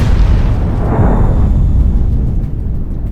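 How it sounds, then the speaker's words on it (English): A loud, sustained boom with a dense low-end roar that slowly fades, from a Ukrainian drone strike hitting a Russian tank. "Seconds later, an explosion lit up the sky."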